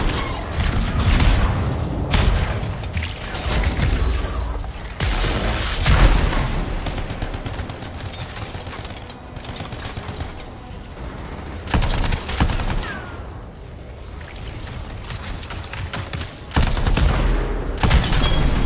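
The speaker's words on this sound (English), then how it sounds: "that guy's got a minigun and it sounds awesome" Minigun fire and explosions from the video game Anthem, loud bursts of rapid gunfire and booming blasts in dense overlapping waves, close and continuous with short lulls.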